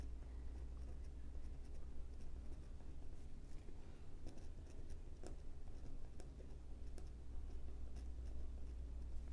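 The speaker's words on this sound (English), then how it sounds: "we're just gonna write 15 here because there's not enough room to write the entire color name" A pen writing on paper beside colored pencil swatches, a soft continuous scratching with small ticking strokes, close and faint over a steady low background hum.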